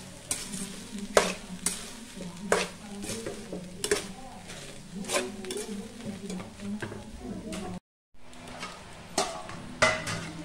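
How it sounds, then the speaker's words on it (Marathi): Grated coconut sautéing in ghee in a pan for methi ladoo, with a steady soft sizzle broken by repeated scraping stir strokes and brief spoon knocks against the pan; a short silent gap near the end, no talking. "आता खोबरं झालेलं आहे तुपात परतून"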